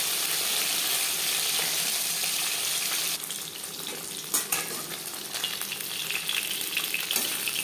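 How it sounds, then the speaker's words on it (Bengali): Fish frying in oil with mustard paste gives a constant bright sizzle, loud at first and then softer, with light clinks and scraping as pieces are turned. "মাছ হালকা করে ভেজে নিয়েছি।"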